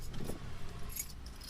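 House keys jangle briefly at close range during a handover, a soft metallic rattle over a low background rumble.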